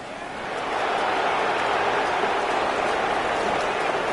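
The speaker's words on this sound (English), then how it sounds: "The rain set to continue as we are underway in the second half" Steady, dense rain pours down at an outdoor football game in the second half, a continuous even hiss filling the air without breaks.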